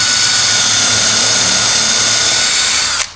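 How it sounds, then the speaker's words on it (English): A power drill bores screw holes in wood, a loud steady high-pitched whine held continuously for about three seconds before cutting off abruptly at the end. "now we can drill holes and put screws"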